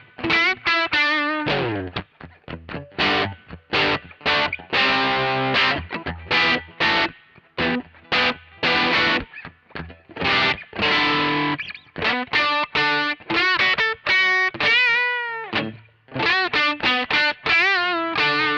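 Shell pink Offset Telecaster electric guitar played through its Creamery Alt 88 bridge pickup and effects, giving a loud, distorted sound with a chorus shimmer. Chords and notes ring continuously with brief gaps, and no voice is heard.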